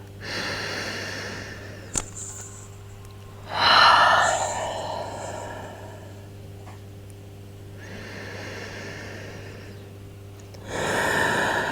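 Deep breaths during a power vinyasa yoga practice: a few distinct inhales and exhales, the strongest near the middle and end, over a steady low background hum.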